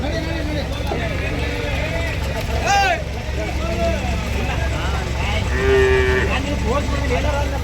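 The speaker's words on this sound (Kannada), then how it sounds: "ಎಮ್ಮೆ ಇದೆ" Several loud, drawn-out moos from a buffalo nearby at a buffalo market, rising and falling, with people talking and background chatter around them.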